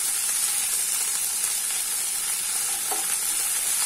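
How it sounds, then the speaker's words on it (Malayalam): A ragi mixture with drumstick leaves sautéing in a pan gives a steady, even sizzle with a single soft scrape of stirring partway through. "ഇത് നന്നായി വഴറ്റുക"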